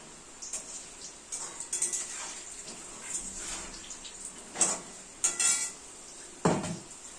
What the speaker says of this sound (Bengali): সমস্ত বাসনও ধোয়া হয়ে গেছে